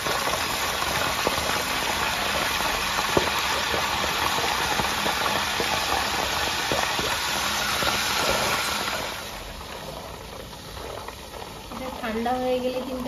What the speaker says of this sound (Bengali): একবার করে ফুটছে একদম। একটু গরম হয়ে গেছে এবং ফুটছে।